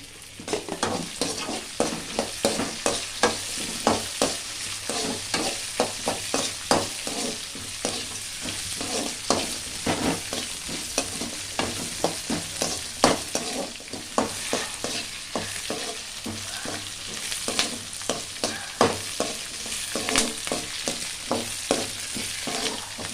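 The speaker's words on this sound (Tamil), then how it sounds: "இதே பாருங்கள் பூண்டு இஞ்சி பச்சை மிளகாய் மூணத்தையும் வதக்கி எடுத்துடலாம்" Garlic, ginger and green chillies sauté in a hot pan, a steady close sizzle broken by quick, regular stirring scrapes and clicks throughout, with no talking.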